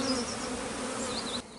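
Honey bees buzz steadily at an opened hive, a dense, close swarm drone with a few individual bees whining past, continuous until a slight drop near the end.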